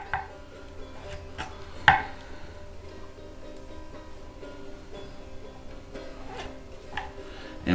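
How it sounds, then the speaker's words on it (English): A knife slicing porcini mushrooms on a cutting board, giving a few scattered cuts with one sharper, louder chop near the start, close and fairly quiet over a steady background hum. "you'll see as I start slicing it"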